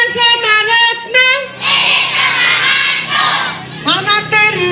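A crowd of schoolchildren at a school farewell ceremony shouts and cheers in loud bursts, with an adult voice calling out to them between the waves of shouting.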